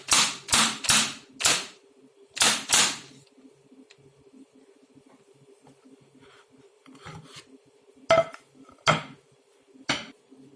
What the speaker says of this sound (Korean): 칼판 위에 얼음틀을 뒤집어 모양 잡힌 밥을 털어내 줍니다